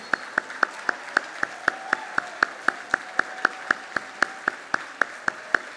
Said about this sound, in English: let's give everybody a round of applause for your service to this country